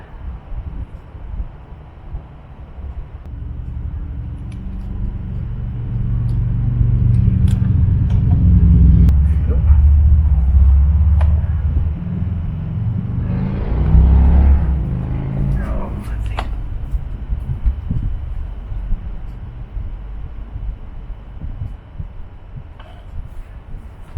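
Small mini quad engine running after being shot through the carburetor, a loud low rumbling idle with revving swells that build mid-way and then settle, steady and close throughout.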